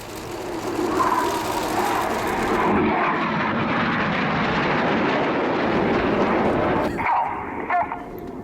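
RAF Red Arrows jets roaring loudly overhead at the RIAT air display, a broad sustained engine rush that swells and then fades as the aircraft pass, with a public-address voice faintly audible beneath.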